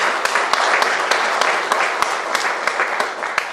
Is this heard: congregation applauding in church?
yes